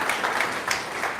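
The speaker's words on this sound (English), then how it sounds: "Let us clap for them." A live audience claps for brass members at a wellness business event, giving a short, brisk burst of fairly loud applause with no talk over it.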